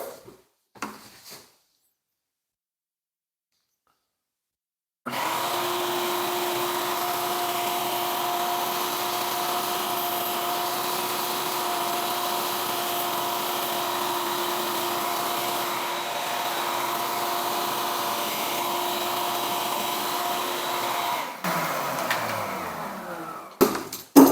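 A shop vacuum fitted with a locking lid and hose and set up as a budget dust collector switches on after a quiet pause, roars steadily and loudly for about sixteen seconds, then winds down.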